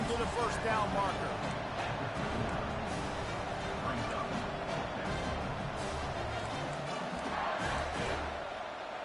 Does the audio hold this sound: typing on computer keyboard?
no